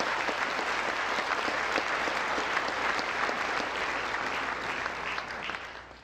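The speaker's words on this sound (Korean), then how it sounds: "다시 한번 뜨거운 박수 부탁드리겠습니다." A large audience at a national prayer breakfast applauding warmly, dense sustained clapping from a big crowd that stays full for several seconds and then begins to taper off at the end.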